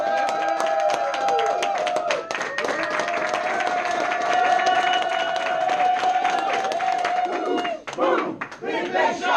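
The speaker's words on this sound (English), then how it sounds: "So please give a big round of applause for CEO MD Nick Lancaster." An audience at a business evening event claps and cheers, with loud whoops and shouts riding over steady applause for several seconds before it breaks up into scattered claps and voices near the end.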